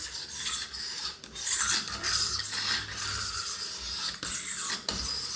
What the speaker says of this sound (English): we're just going to drag the blade along here